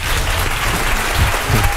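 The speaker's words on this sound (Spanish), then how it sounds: "Un aplauso para Juan" Audience applause at a Thinking Party 2012 session for a presenter, a dense, steady wash of clapping throughout with a few louder bursts near the end.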